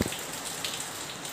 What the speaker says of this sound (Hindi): बाहर देखिए बारिश हो रही है